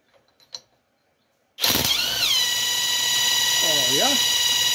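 A Ford Escort MK1 alternator spinning up on a test rig starts abruptly after a brief quiet moment, then runs as a loud, steady mechanical whine with a pitch that rises and settles.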